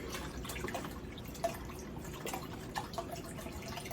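Organic vegetable broth is poured into a pot for beef stew, a soft continuous liquid trickle with faint splashes and drips, fairly quiet and close.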